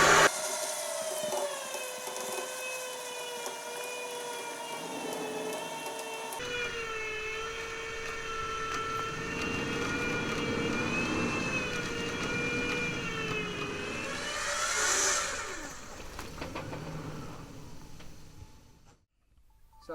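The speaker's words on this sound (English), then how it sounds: "we'll give it a bit of a winch up here, and we'll see how she works" A 4x4 vehicle's winch hauling a car on a forest track, a long, steady mechanical whine and grind whose pitch drifts as the cable strains, with engine rumble underneath and a brief fall-off near the end.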